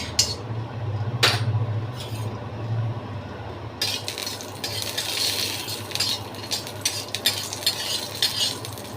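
Cashew nuts frying in a pan for a mango dessert, a soft sizzle under a low hum with an occasional utensil clink, then louder, busier crackling and stirring scrapes in the second half.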